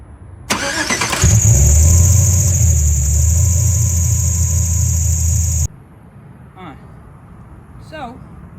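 A 4.8 V8 fitted with a new cam starts and idles with a loud low rumble and a steady high-pitched squeal, close by, for about five seconds before it cuts off. A couple of faint chirps follow in the quiet.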